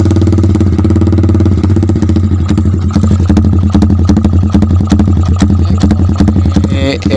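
Yamaha Vixion motorcycle engine idling with a horse-like timing, a loud close, uneven galloping thump that repeats steadily throughout with mechanical clatter on top.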